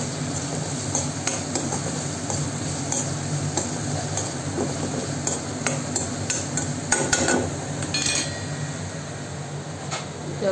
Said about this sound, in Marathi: हे फक्त असं फ्राय करायचं.